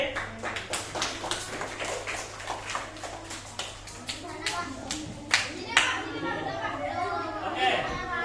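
A small group of schoolchildren claps in a quick, uneven patter for several seconds during a physical education class, close by, with children's chatter mixed in.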